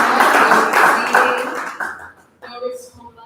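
Applause from a festival audience at an event pavilion, a dense burst of clapping for about two seconds that fades, after which a voice speaks.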